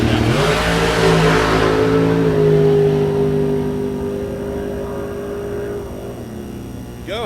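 Dragster launching down a drag strip at Mid America Dragway during time trials, a loud, close engine roar with rising and falling revving tones that gradually fades as the car pulls away.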